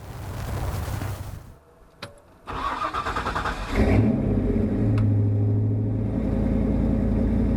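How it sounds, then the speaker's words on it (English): A 1966 Ford Bronco cranks, stumbles briefly, then catches and fires up, settling into a loud, close, rumbling idle with a couple of light revs. "Alright, firing this thing up"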